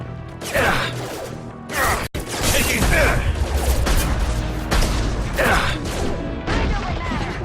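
Bursts of gunfire from a Mass Effect 2 firefight crack out in repeated volleys with crashes and mechanical clatter, dense and close, broken by a brief drop near the two-second mark, while voices speak over the action.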